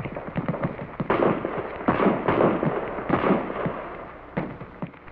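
M14 rifles firing on a military practice range, a dense run of loud overlapping gunshot cracks and booms, near and continuous, with a few more shots spaced out at the end.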